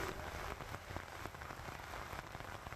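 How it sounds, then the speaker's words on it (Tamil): Heavy rain pours down at the Sholinghur Yoga Narasimha hill temple in Tamil Nadu, a dense, continuous hiss of drops drumming on surfaces, steady and close with no voices. "இருள் சூழ்ந்து கருமேகங்கள் சூழ்ந்து அங்கு கனமழை பெய்து வருகிறது."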